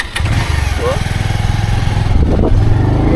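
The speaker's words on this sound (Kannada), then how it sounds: "ಇಲ್ಲಿ ನೋಡ್ರಿ ನಮ್ಮ ತಮ್ಮ ಗಾಡಿ ಹೊಡ್ಲತ್ತಲ್ಲ" Motorbike ridden by the speaker's brother: a loud, close engine chugging with a rapid regular beat, steady and rough as it runs, with voices talking over it.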